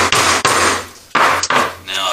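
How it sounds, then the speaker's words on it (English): Several loud, close knocks of a hammer driving a staple through canvas into a wooden stretcher frame, in two pairs of strikes separated by short pauses. "Put a staple right there. And go ahead and hammer that down."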